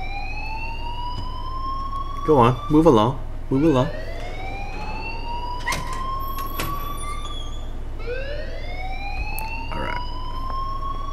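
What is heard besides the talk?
school alarm ringing in Life is Strange video game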